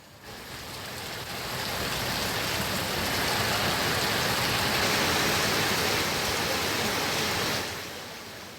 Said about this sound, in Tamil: தாம்பரம் மேடவாக்கம் பல்லாவரம் உள்ளிட்ட சுற்று வட்டார பகுதிகளில் விட்டுவிட்டு கனமழை பெய்தது